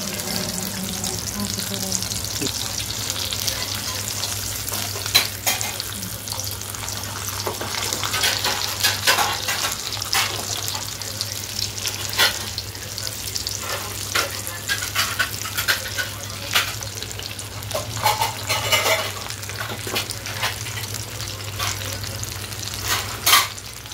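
Masala-coated mackerel (bangda) fish fry in a pan with a steady, close sizzle and crackle, the fish being turned over midway, while scattered clinks, scrapes and some running water sound from the kitchen and brief speech can be heard.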